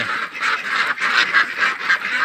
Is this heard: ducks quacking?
yes